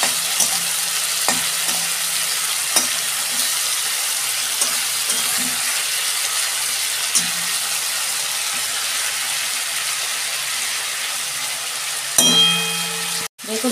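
Prawns frying in a pan of hot oil, a constant sizzling hiss with occasional soft scrapes as they are turned, ending in a sharp metallic clang near the end.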